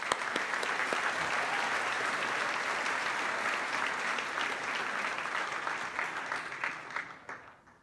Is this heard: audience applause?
yes